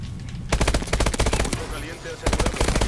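Call of Duty Advanced Warfare turret firing like a Vulcan gun, loud rapid bursts of close machine-gun fire, with a brief pause before the final burst.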